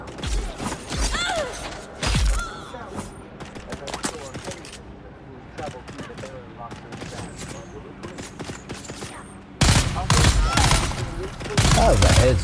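Rapid gunfire from Dune: Awakening, loud overlapping bursts near the start, around two seconds, and again in a dense stretch from about ten seconds, with quieter clatter and mechanical creaks between.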